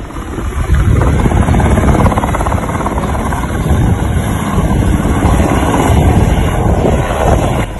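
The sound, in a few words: helicopter landing American troops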